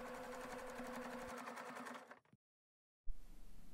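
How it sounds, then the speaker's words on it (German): A sewing machine stitches back over the start of a seam to lock it while closing a bag sewn from a cushion: a steady, close, buzzing whir that stops abruptly, falls silent for under a second, then starts again. "Dann über den Anfang der Naht hinwegnähen und die Naht verriegeln."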